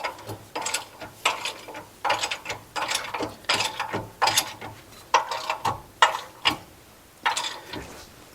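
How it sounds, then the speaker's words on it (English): Ratchet wrench turning a bolt on the front suspension of a C10 truck, a rapid run of close clicking strokes in repeated bursts with short pauses between them, near and fairly crisp. "Ratchet. Ratchet."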